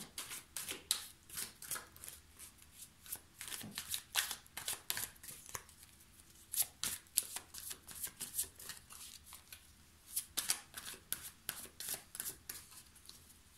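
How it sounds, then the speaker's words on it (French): Tarot cards are handled and laid over one another in a quiet room, producing a close, irregular run of crisp card slaps and shuffling swishes, with no voice. "Je vais recouvrir les cartes pour avoir plus d'informations."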